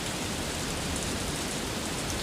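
Steady rain falls beside a waterfall in the video game Harvest Moon: A Wonderful Life, a dense, even hiss of water that continues without break and without any voices.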